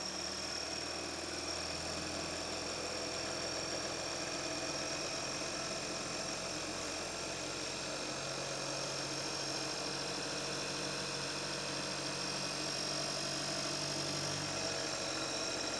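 A vehicle engine runs steadily just above idle at roughly 2300 RPM, giving a continuous low hum with faint knocking texture, constant in level and with no talking.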